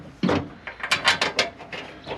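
GM body bolts threaded into a Ford F250 Super Duty tailgate by ratchet: a few quick mechanical clicks and short metallic scrapes, close and moderately loud, in a brief irregular sequence without speech.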